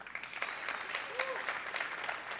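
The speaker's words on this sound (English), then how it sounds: "Round of applause, actually. Make it as loud as you can" A tech conference audience applauds in a moderately loud, dense burst to vote on a Windows 10 deployment topic during a live Q&A session. Some voices rise over the clapping.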